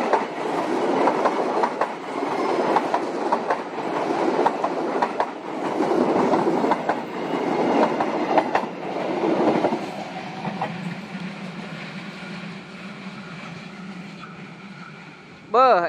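A local train near Garut rumbles past close by with loud rhythmic clatter on the rails, then the noise thins out and a voice is briefly heard.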